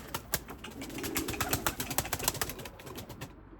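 Domestic breeding pigeons in a loft give a steady run of soft, rhythmic cooing, close and fairly quiet, with no talk over it.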